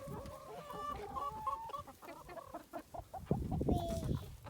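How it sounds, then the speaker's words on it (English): Hungry backyard chickens cluck in a busy, overlapping chorus of short calls, close by, with a child and adult nearby on a farm where horses and donkeys are kept. "See these hungry chickens?"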